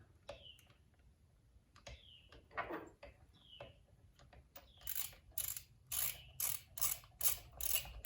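A ratchet turns a 17mm socket while a 1998 Suzuki RM 250 dirt bike is built. It starts with a few sparse clicks and quick back-and-forth sweeps, then runs a steady series of sharp ratcheting bursts, close and fairly quiet.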